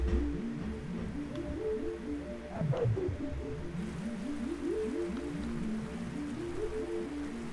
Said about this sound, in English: A creature mumbles gibberish again.